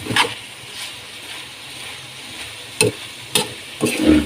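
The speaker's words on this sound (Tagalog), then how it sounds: "Mga ganong takkaan ng sandok." A ladle scrapes and knocks against a pan of sautéed bitter melon, with a soft frying sizzle underneath and a few sharp, close clacks near the end.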